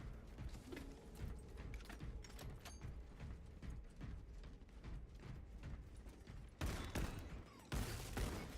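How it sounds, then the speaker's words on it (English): Magazine swap reload in the Space Marine 2 video game: quiet mechanical clicks and ratcheting metal clatter against a low background, then two louder, sharper bursts of noise near the end. "Swapping magazine."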